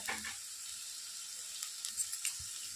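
Paneer paratha filling frying in a pan, a steady soft sizzle with a few light stirring scrapes, faint and continuous without any voice.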